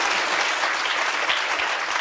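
Dense, continuous applause from a seated lecture audience thanking volunteers at a science event on life beyond Earth, an even wash of clapping with no breaks.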